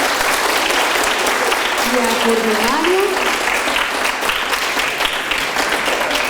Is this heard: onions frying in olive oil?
no